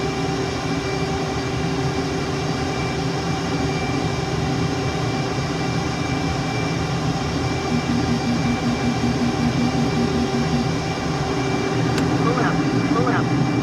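Boeing jet engines in Microsoft Flight Simulator 2020 drone steadily in a loud, continuous roar with tonal whine, heard close throughout as a plane takes off.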